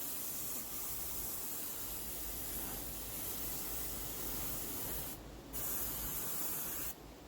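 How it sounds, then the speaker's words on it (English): Air compressor running while a truck is spray painted, a steady loud broadband hiss of air that continues throughout, dipping briefly in two short breaks near the end. "Let me fire that compressor back up."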